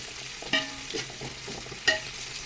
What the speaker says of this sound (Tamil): அப்புறம் மூணு மிளகா போட்டுட்டு நல்லா வதக்கணும்